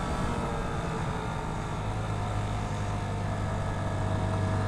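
Italika Z 15 motorcycle cruising at about 67 km/h on a road trip to Oaxaca's Sierra Norte, heard as a steady droning engine hum mixed with constant wind rush, no talk.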